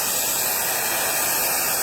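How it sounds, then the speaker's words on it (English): Hair dryer blowing on a dog after its bath: a steady, close, broadband whooshing hum that runs unbroken and loud throughout. "You love the hairdryer?"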